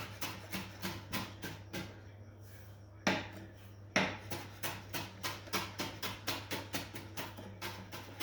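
A kitchen knife chops cucumber on a cutting board for a Mexican-style cucumber salad, brisk repeated knocks in a steady rhythm, close and crisp, broken by a couple of louder thuds midway.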